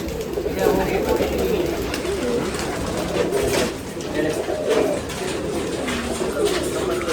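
Pigeons at a pigeon festival in Nashik, a steady murmur of cooing and fluttering birds over a busy outdoor crowd, with voices talking throughout.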